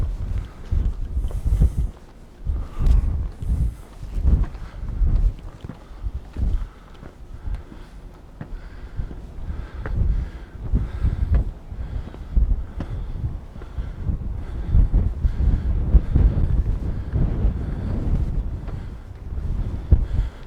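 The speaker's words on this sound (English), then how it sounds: "We're getting very windy now." Strong wind gusts buffet the microphone on the battlements of a seaside castle in Palma de Mallorca, with loud low rumbling surges rising and falling throughout and no speech.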